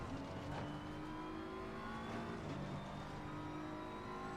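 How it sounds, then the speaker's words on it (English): Race car in Assetto Corsa Competizione flooring it out of the carousel at the Nordschleife, a steady engine drone building with gear changes, close and continuous with no talk. "as soon as it starts to open up, we floor the car."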